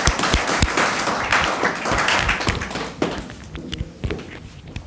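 Students clapping loudly for a welcomed guest at a coaching-institute felicitation, a dense burst of applause that thins into scattered individual claps by the end.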